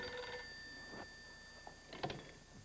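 A telephone rings indoors with a bright, steady electronic bell tone, the ring sustained through the opening and tapering off, with a few soft knocks and rustles afterward.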